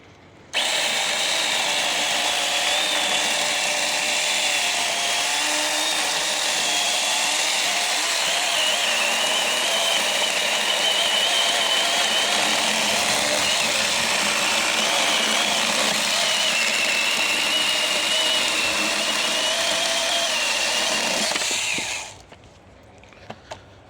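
START PRO SBS2-21/6MBX cordless mini chainsaw cutting through wood, a loud continuous high motor whine with rasping chain bite lasting about twenty seconds before spinning down, close up with no talk.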